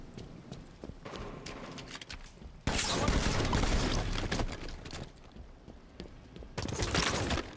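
Gunfire in the video game Halo 5: rapid bursts of shots and thuds from a multiplayer match, with a dense loud volley in the middle and another toward the end.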